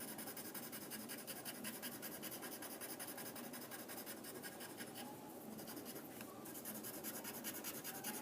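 Graphite pencil scratching steadily across paper in dense overlapping zigzag strokes under heavy pressure, a continuous close, loud scribbling rasp with no voices.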